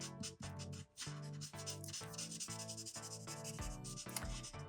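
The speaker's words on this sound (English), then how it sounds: "I'm just going to fill that in completely blue right now." A blue marker scratches and rubs rhythmically across paper, filling in a drawn blindfold with quick, close back-and-forth strokes at a soft level.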